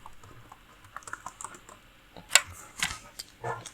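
Close computer keyboard typing as Python code is written: scattered soft key taps, then a louder burst of clicks and clacks toward the end, with no talking.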